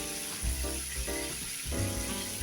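Saltfish pieces frying in a hot skillet for a Jamaican escovitch dish, a soft continuous sizzle with faint crackles and a few low knocks, close and quiet with no talking.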